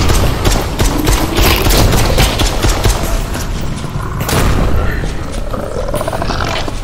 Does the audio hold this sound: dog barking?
no